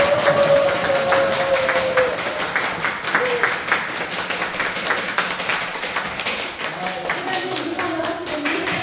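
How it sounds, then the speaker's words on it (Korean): Applause from a lecture audience at a university continuing-education laughter-coaching seminar in Korea, welcoming the chairman onstage; dense, steady clapping fills the room throughout, with voices and stray tones mixed in. "박수로 회장님을 모시겠습니다."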